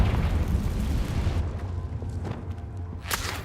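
Confringo explosive spell in the Hogwarts Legacy video game, a dense booming blast rolling out at the start and fading into rumble, with a second sharper burst near the end.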